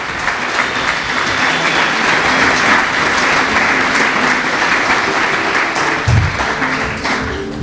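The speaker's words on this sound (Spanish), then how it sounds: "Dale un aplauso a Jesús." A church congregation at a Spanish-language Holy Spirit service applauds loudly and close by, a thick continuous roar of many hands clapping that holds steady for several seconds, with a brief low thump near the end.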